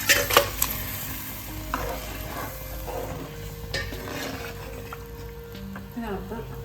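Fish pieces go into a pot of boiling fish curry gravy, followed by close stirring scrapes and a steady simmering sizzle, with a few clinks of a utensil against the pan.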